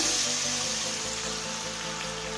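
Tamarind water poured into a hot pan of tempering with asafoetida and peanuts for tamarind rice, giving a soft steady sizzle and bubbling hiss, faint and brief with no voices.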